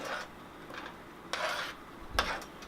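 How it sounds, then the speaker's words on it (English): A spoon stirs rice in a cooking pot for Spanish rice in a few short, soft scraping strokes with quiet gaps between them, close and with no talk. "stir the rice in"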